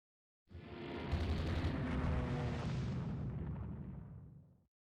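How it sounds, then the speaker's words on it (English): A bomb striking a destroyer in the naval warfare game Rule the Waves 2: one loud, sustained explosive roar with rumbling low end, lasting about four seconds before fading out, with no talk. "Bomb hit on one of the destroyers."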